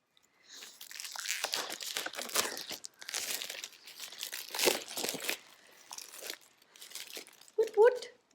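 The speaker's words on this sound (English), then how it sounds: "Now let's peel the plastic off this one." Plastic shrink wrap being peeled and torn off a book, giving a run of close crinkling and crackling bursts in irregular waves, with a brief voice near the end.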